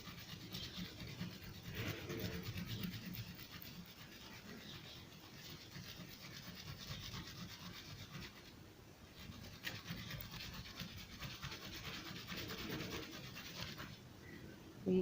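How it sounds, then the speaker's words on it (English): An aloe vera leaf rubbed against a grater, a soft, steady rasping scrape repeating close by at low volume with no talking. "So I'll be grating it here."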